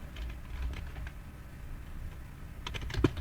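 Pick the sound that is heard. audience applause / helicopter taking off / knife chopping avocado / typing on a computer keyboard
typing on a computer keyboard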